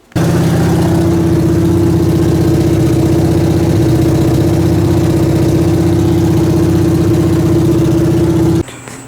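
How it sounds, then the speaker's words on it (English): Rebuilt Camaro engine running steadily during break-in, a loud unbroken drone at constant pitch that stops abruptly near the end, leaving quiet background noise. "the motor has not changed pitch the entire time, which is a fantastic sign"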